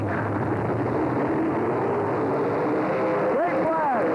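Open wheel race cars circle Fairgrounds Speedway in a 1984 USAC versus NCRA event, a dense continuous engine roar filling the air, with a car's pitch sweeping up and down near the end as it passes close, while an announcer talks over it.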